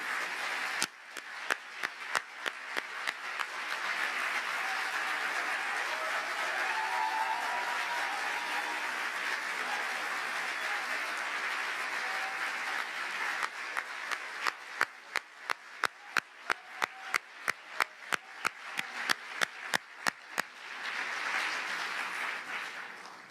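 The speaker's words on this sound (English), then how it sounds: "More applause like that, she'll come back more often, too." Audience applause at a ministerial conference on religious freedom: a large hall of steady clapping that rises and fades, with sharp individual claps standing out near the microphone.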